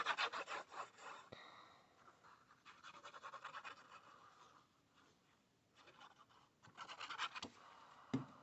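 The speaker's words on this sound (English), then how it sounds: "Let's give it a wee burnish down" Paper Gummiapan die cuts are burnished by hand, giving soft, dry rubbing and scratching strokes in quiet bursts with brief pauses, close and faint.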